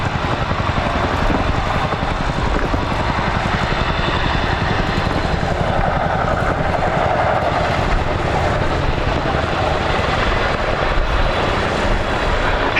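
A Boeing CH-47F Chinook twin-rotor helicopter at a summer air show at IWM Duxford gives off a loud, steady, continuous rotor and engine roar with a fast chopping beat that never lets up throughout, with no voices heard.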